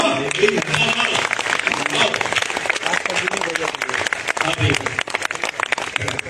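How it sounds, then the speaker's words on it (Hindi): Applause from the audience at a Hindi poetry stage event with a poet in Bangkok, crowd clapping at a steady pace while speech runs on top of it and other crowd noise mixes in. "एक बार उनके लिए ताली"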